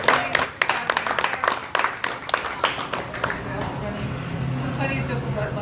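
Applause at a political coffee talk inside a bakery cafe, a burst of scattered close handclaps that thins out within a few seconds and gives way to room murmur and a voice talking.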